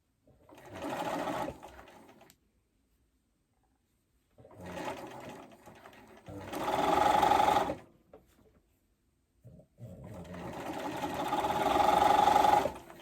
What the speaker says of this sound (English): I like to keep my needle pointed down so that when I pivot around the corners, the needle stays down.